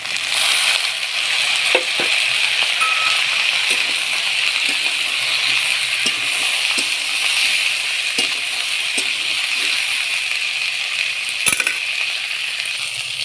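Chopped vegetables, including potato and carrot, frying in a pan, with a steady loud sizzle and occasional clinks and scrapes of stirring, no talking.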